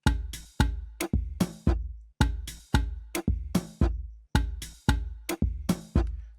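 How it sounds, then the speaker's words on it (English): One bar of an Amapiano drum pattern, loud punchy electronic hits with deep kick thumps and bright snappy layers repeating in a syncopated, steady groove, about fourteen strikes, with no voices. "It's just one bar of the drums."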